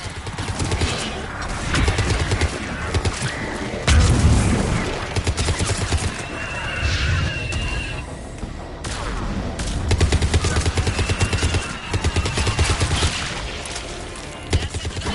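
Sustained gunfire in a jungle battle in Mass Effect 3, rapid automatic bursts rattling almost continuously with heavier booming impacts from missile explosions underneath, loud and dense throughout.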